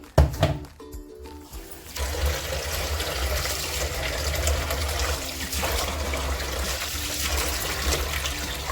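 River fish being washed by hand in water, a continuous splashing and rushing of water after a brief clattering start, fairly close and loud throughout.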